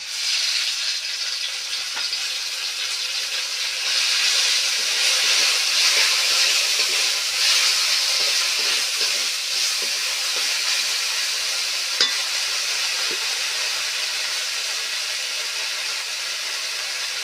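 Spices hit a hot pan for a Manipuri dal and sizzle in a steady, bright hiss that swells slightly midway, close and continuous, with a faint click or stir now and then.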